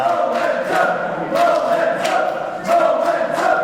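Wrestling crowd at a UKW Friday Night Showdown tag team match, a steady dense roar of many voices swelling in waves of cheering, with no clear speech over it.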